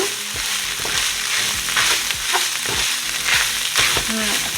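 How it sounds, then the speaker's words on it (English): A chicken bouillon cube and a quarter teaspoon of allspice are stirred into a hot, sizzling pan for lasagna sauce, with a loud continuous fry and repeated scraping strokes of a spoon throughout. "Go ahead and stir that in."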